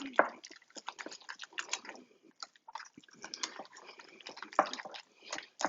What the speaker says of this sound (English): Then I'm just going to use my hand whisk here.